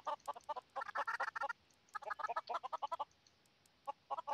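Chickens cluck in a Minecraft-style multiplayer game, a quick run of short, soft clucks in clustered bursts with brief pauses, fairly faint and with no voices.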